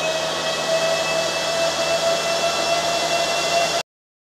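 A Vevor 6 kW inverter generator runs after a restart, giving off a steady, loud, even hum with a faint whine on top, then cutting to silence.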